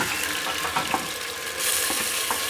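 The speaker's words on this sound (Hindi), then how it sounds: "मटन जो है वो डाल देते हैं।" Mutton marinated in ginger and garlic sizzles loudly in a hot pan, with stirring scrapes and spattering that swell as the meat settles into the oil.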